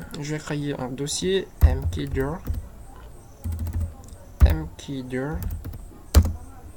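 Keys clack on a computer keyboard as a command is typed into a Linux terminal, light taps in short clusters under someone speaking French, with a few sharper key strikes.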